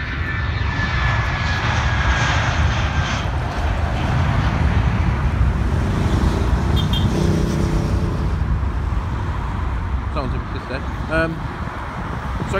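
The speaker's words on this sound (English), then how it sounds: "a 737, 76, a Dreamliner, and possibly another 777 going out" An airliner takes off from runway 27 right at London Heathrow, its jet engines a loud, sustained broadband roar that fills the whole clip, with faint talk in the background.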